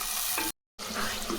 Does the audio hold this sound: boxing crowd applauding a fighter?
no